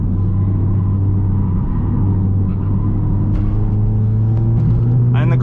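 Audi S3 with a Stage 2 tune driving on the road, its engine a steady, loud low drone and rumble throughout, with someone talking over it.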